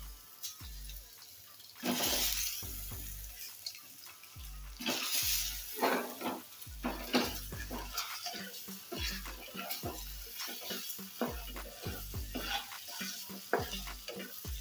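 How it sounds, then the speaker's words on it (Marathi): Boiled eggs fry and get stirred in hot oil in a pan for a masala egg dish, with soft sizzling under repeated close scraping and clattering strokes of a spoon. "गरम तेलामध्ये आपल्याला हे उकडलेले अंडे परतून घ्यायचे आहेत"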